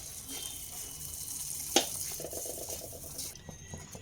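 Water swished out of a rinsed mixing jar pours into spice paste for methi matar malai, a soft splash over a faint sizzle, with a sharp clink and some stirring.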